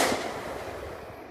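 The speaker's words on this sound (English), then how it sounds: "This is the breast cancer awareness firework." Fireworks bursting at an Independence Day display, with one sharp broadband blast at the start that decays into a long crackling, rumbling tail, loud and fairly close, with no talk.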